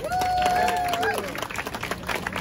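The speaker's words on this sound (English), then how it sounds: "June, big round of applause, everyone, please." Audience applause and cheering at a church gathering, a dense wash of clapping that swells at once and holds steady, with a sustained tone ringing over it at first and then thinning into scattered claps.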